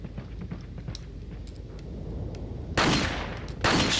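Two loud gunshot bursts in the video game Resident Evil 4, one near the end and another just before, following a stretch of low rumbling game ambience with faint clicks.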